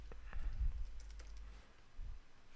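Several quick keystrokes on a computer keyboard, typing a short word, close and fairly quiet over a low background hum, with no talking.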